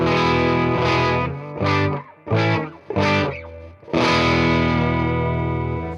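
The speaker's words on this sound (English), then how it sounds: "that is literally nothing but direct guitar into the Polar at the end, just for a little bit of reverb." Clean electric guitar played straight into a Polar reverb, ringing out in sustained chords broken by a few short rhythmic stabs, then one long chord left to decay, loud and alone with a soft reverb tail.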